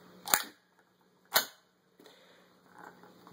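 Bolt catch on a WE full-metal M4 airsoft gun snapping home, giving two sharp close metallic clacks about a second apart, followed by quieter handling noise.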